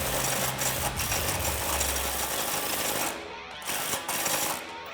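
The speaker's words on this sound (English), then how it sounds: "you can now take the impact, extension, U-joint, and 19mm socket and tighten down that nylock nut" An impact wrench with an extension, U-joint and 19mm socket drives down a nylock nut on a Tacoma lift install, a loud continuous rattling hammer for about three seconds, then shorter bursts after brief pauses.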